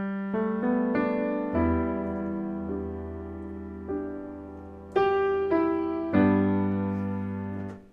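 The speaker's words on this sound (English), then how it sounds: "So we're gonna start out with that iconic guitar melody. The riff that starts the song sounds like this." The opening riff of a song, played alone on piano as a run of clear, ringing single notes and chords, struck one after another at a moderate pace with each decaying before the next.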